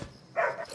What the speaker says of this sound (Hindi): अरे क्यों भौंक रहा है?